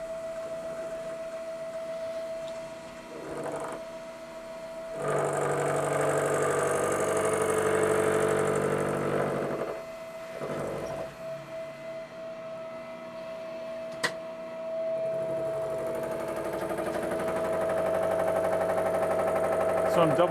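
A machine tool cuts a part clamped in a vise with angle blocks, a whining cutting tone rising in several bursts of a few seconds each between quieter pauses, steady hum underneath.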